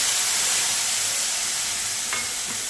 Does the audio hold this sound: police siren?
no